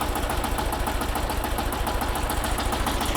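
A Shifeng 354 tractor pulls a 'Sonechko' rake slowly through alfalfa, raking it into windrows. Its engine gives a steady, close, throbbing drone with an even rhythmic pulse throughout, and no one speaks.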